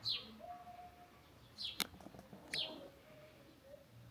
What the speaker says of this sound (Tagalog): Narinig nyo ba yung ibon?